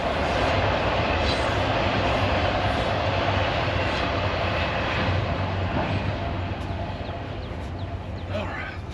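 A 1953 Ford NAA tractor engine runs outdoors with a constant, close, low rumbling chug, a faint background clatter and a slight dip in level toward the end.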